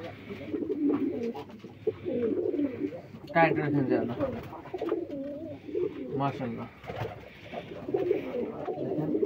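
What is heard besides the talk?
pigeons cooing at a pigeon farm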